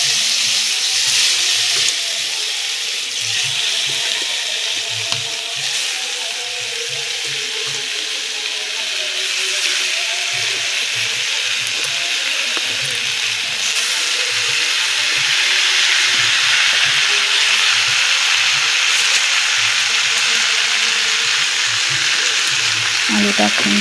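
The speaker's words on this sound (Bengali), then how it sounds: "তো এইবার কড়াইতে তেল দিয়ে আলু দেব" Potatoes coated with salt and turmeric fry in oil in a wok, sizzling loudly and steadily, with occasional stirring scrapes through the sizzle.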